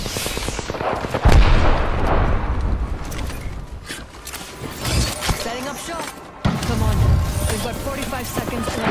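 Loud gunfire in the video game Apex Legends, with rapid bursts of shots and booming impacts that continue almost throughout, while a voice talks over the action.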